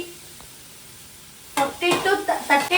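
Bread pieces with chilli powder roasting in a pan, a quiet start giving way to bursts of sizzling and stirring scrapes in the last second or so, close and moderately loud.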